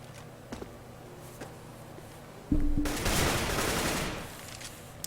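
Pistol gunfire in the video game Counter-Strike: Global Offensive during an esports match: a few faint distant pops, then a dense, loud burst of shots that carries on for a couple of seconds before tapering off.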